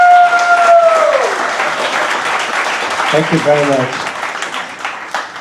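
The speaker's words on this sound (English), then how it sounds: "Let's give a round of applause to welcome Hian." An audience at a Razer SEA HQ talk breaks into a loud, sustained round of applause welcoming a speaker, a dense clatter of many hands that fills the room while a voice briefly speaks through it.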